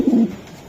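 A single short, low coo from a racing pigeon, close and fairly loud, fading quickly into quiet background.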